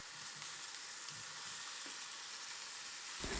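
Steamed wheat-flour kozhukattai dumplings are sautéed in a masala in a pan, with a steady, soft sizzle running throughout and no one speaking.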